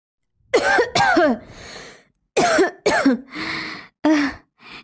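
Several harsh coughs close up, in two clusters separated by a pause, with a final softer throat-clearing cough at the end.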